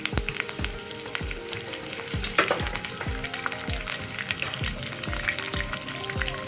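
Curry leaves sizzle and crackle loudly in hot oil for a Rayalaseema-style mirchi fry, a steady frying hiss broken by regular scraping stirs of a spatula, close up with no voices.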